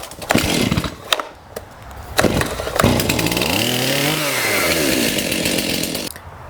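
A Stihl chainsaw with the choke on is started: a few sharp pull-cord yanks, then the engine catches into a loud, close, revving buzz that rises and settles before cutting off.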